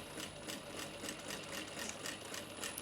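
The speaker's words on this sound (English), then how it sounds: "we're going to sew down around those side bits" Sewing machine stitching through a crossbody bag's lining and exterior layers, a steady, quiet mechanical whir with a fast regular needle rhythm running continuously, heard alone without talk.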